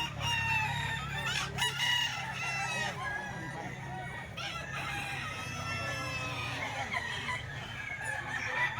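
Many roosters crow over one another at a busy fighting-cock sale in Grotto, overlapping cock-a-doodle-doos rising steadily from a dense, noisy crowd of birds close by.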